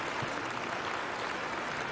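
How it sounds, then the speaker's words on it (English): Audience applause at a conference welcoming a speaker: a dense, even wash of clapping from many hands, steady and moderately soft throughout. "Let us welcome him with a warm round of applause"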